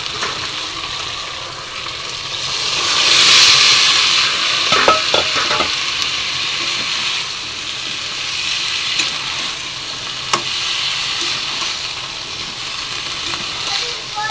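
Bottle gourd greens are tossed into a pan of hot spiced oil for a vegetarian dish. A loud, close sizzle carries on throughout, with stirring scrapes and a few clanks of the pan.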